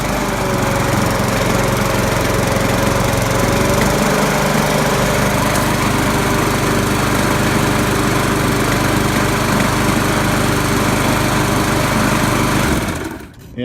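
A 1997 Murray lawnmower engine with oil blow-by from the breather runs at idle, a loud, close, steady buzzing drone that holds for most of the span before cutting out at the end.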